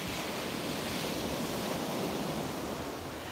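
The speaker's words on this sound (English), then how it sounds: "I hope you enjoyed the beach, the waves" Waves wash steadily onto a beach at sunrise, a dense, even roar of surf that stays close and constant throughout, with no voices.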